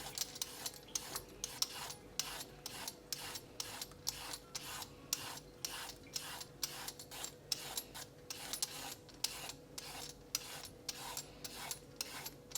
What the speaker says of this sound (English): I'm going to be using 6 carrots and I'm just going to